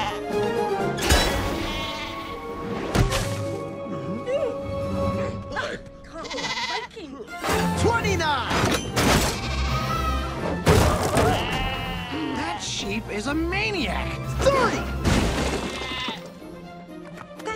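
Cartoon sheep bleats repeatedly as it is flung from a launcher in an animated dragon series, mixed with thuds, music and excited character voices talking over the action.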